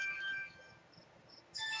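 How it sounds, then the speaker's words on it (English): A mobile phone plays a faint electronic ringtone of tonal beeps, which fades and then resumes more strongly at the end. "it never fails when I'm doing a video, my phone starts ringing or somebody walks in."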